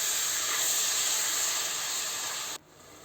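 Tomatoes with turmeric sauté over medium heat in a pan for beef curry, giving a steady, fairly loud sizzling hiss that cuts off abruptly near the end, leaving quieter background.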